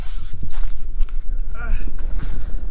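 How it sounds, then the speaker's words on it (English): Wind gusts outside a remote frozen lake winter camp at about -20, a steady rough buffeting that rumbles across the microphone throughout, with brief scuffs of movement mixed in. "So the wind definitely picked up a little bit"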